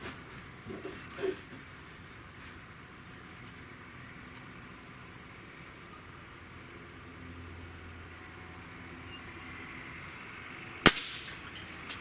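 A single sharp shot from an RWS Diana 350 Magnum N-TEC air rifle near the end, a brief crack standing out from a quiet outdoor background at a 20-yard range.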